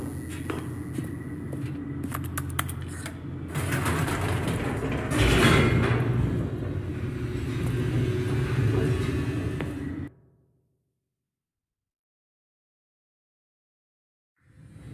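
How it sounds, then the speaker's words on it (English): An elevator descends in The Stanley Parable, giving a deep, steady mechanical rumble with some clatter and sliding sounds. The rumble swells midway, then cuts off abruptly into silence. "The elevator raced downward, plummeting towards an unknown fate"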